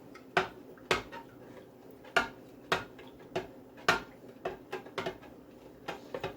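A spoon clinks and taps against a container while Jamaican beetroot and carrot juice is stirred and sweetened, giving a series of bright, irregular knocks close by.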